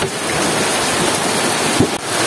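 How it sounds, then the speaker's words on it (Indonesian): Heavy rain pours steadily over a village shelter in Tasikmalaya, a dense, loud, continuous hiss with no talking. "bisa dilihat nih hujan masih cukup lumayan lebat"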